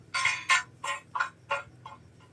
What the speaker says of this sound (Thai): ว่าเชิงเทียนช้างเนี่ย เนี่ยกระทบกัน